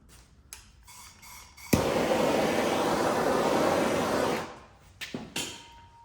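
A steady, loud blowing hiss of a heat gun warming headlight tint film on a Chevrolet Equinox runs for about three seconds, starting abruptly and cutting off, with a few brief clicks around it.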